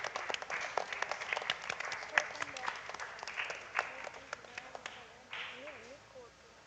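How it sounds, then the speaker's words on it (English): Audience clapping at a primary schools quiz ceremony as a guest is welcomed forward, a steady patter of applause with brief talk and a short whistle-like tone near the end. "A round of applause."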